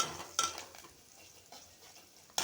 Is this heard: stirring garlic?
yes